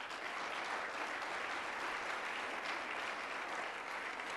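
A room of attendees at a university green education celebration gives a round of applause, a steady wash of clapping heard from a little distance, unbroken for several seconds.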